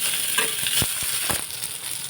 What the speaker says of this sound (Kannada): ಕರಿಬೇವು, ಟೊಮೊಟೊನ ಕೂಡ ಆ್ಯಡ್ ಮಾಡಿಕೊಂಡು ಫ್ರೈ ಮಾಡ್ಕೊಳ್ತಾ ಇದ್ದೀನಿ.